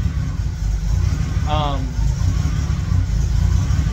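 A car engine idling after new spark plugs and injectors were installed, a steady low rumble close by, with a brief voice over it.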